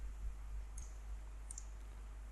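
Computer mouse giving two faint, crisp clicks about a second apart over a low steady hum.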